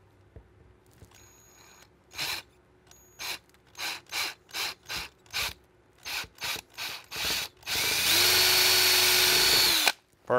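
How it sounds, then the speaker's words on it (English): A power drill with a 1/4 inch bit whirs in a series of short bursts, then runs continuously for a couple of seconds as it bores through a rifle buttstock, close up. "swap out your drill bits, get your 1/4 inch drill bit"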